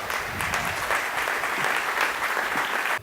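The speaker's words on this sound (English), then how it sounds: "Let's give them another big round of applause." A crowd at a veterans' summit gives a sustained round of applause, dense and even throughout, cutting off abruptly at the end.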